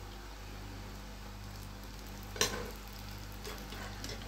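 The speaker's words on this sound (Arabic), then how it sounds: "البتنجان لما بتيجي تقليه بتزودي سنة في التحمير" Eggplant slices frying in hot oil for moussaka, a steady soft sizzle with low steady hum, broken by one sharp clatter midway and faint stirring scrapes afterward.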